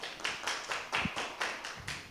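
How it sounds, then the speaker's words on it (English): A class applauding a presenter at the start of a group presentation, heard as about seven soft, evenly spaced bursts of clapping, moderately quiet and without talk. "can our class give an applause to our presenter today?"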